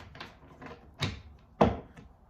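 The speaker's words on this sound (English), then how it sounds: "I gotta get that knock in, right?" Knocking on wood, several soft dull knocks at uneven intervals with the last ones louder, close by and quiet, with no talking.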